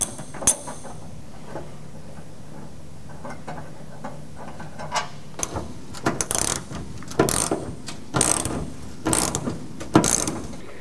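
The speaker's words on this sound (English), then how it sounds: "we're going to remove these 2 10mm bolts that they're from the factory" Ratchet removing two factory 10mm bolts from a vehicle's rear wheel fender area, with repeated clicking bursts of ratcheting strokes growing louder and denser in the second half, close up, with no talking.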